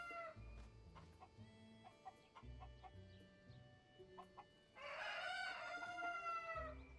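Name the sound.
chicken clucking and crowing in Zelda Tears of the Kingdom video game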